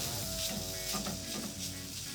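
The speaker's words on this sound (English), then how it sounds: "Once it starts sizzling again, throw in our chicken liver." Chicken liver sizzles steadily in a hot pan, a close crackling hiss with faint stirring, no voices.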